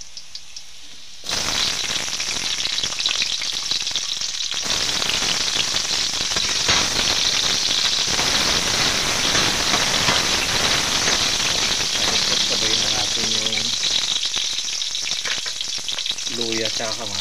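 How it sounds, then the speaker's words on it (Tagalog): Garlic and onion sauté in a hot pan for a sauce, a loud, steady sizzle and crackle filling the whole stretch after a brief quiet start, with occasional stirring scrapes and faint clinks near the end. "Ngayon simulan natin maggisa para dun sa magiging sauce nya guys"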